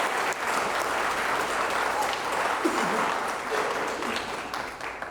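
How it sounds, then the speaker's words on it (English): Studio audience applause at a televised mayoral candidates' forum for St. Stephen, a broad continuous roar of clapping hands sustained evenly for about five seconds, fairly loud and close, with no voices over it. "I'm going to ask for a round of applause because we're in a studio audience"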